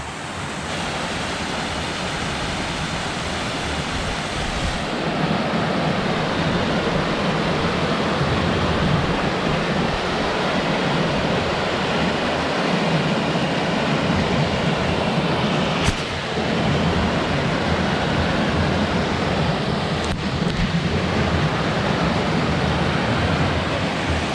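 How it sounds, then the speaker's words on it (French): A river pours over stepped cascades in a gorge, a dense, steady roar of rushing water that stays loud and continuous throughout, with no voices. "il y a des paliers quoi dans cette rivière"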